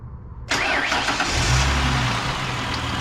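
A Ford Mustang engine cranks and fires up after about half a second of near silence, then settles into a steady, loud, close idle with no one talking.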